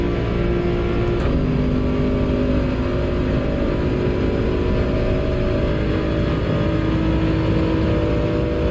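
The Peugeot VGT race car engine in Gran Turismo 7 drones at high revs in a steady, loud, continuous whine with a buzzy low rumble under it, and no speech.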